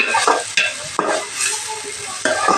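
Food frying in a pan while being stirred: steady close sizzle with repeated scraping strokes of a spoon against the pan roughly every half second, no voices.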